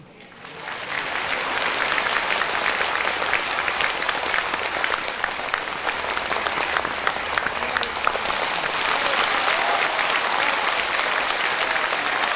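An audience at a spiritual teaching lecture breaks into applause that swells within the first second, then holds as dense, even clapping for about twelve seconds.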